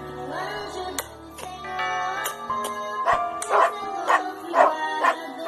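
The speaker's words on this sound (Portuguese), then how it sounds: "Ó, cachorrinhos, Cisa." Small dogs bark and yip in short, high, repeated bursts, growing louder and more rhythmic toward the end, with a faint voice in the background.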